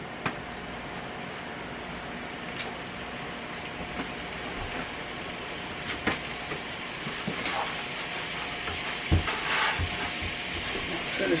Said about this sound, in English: You'll soon hear it sizzle.